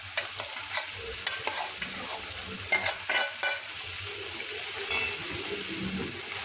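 Tomatoes and sabudana (sago) are sautéed in a pan: a constant low sizzle runs under repeated spoon scrapes and stirs that clatter irregularly against the pan, close and clear, with no talking.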